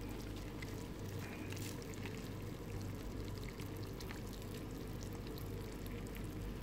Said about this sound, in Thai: เติมน้ำร้อนกันครับ